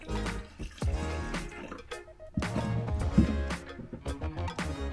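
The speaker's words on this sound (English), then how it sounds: "So with what's left of our antifreeze, we are gonna pour a little bit down this drain" RV antifreeze poured down the shower drain of an Airstream Basecamp, splashing and gurgling in uneven bursts that drain away, heard close and alone.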